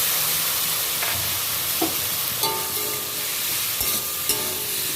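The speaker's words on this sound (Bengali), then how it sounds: "ভালো করে কষিয়ে নিতে হবে" Vegetables with papaya frying in a pan with a spice mixture, a steady sizzle and hiss with scraping stirs and occasional knocks of the spoon against the pan, close and continuous.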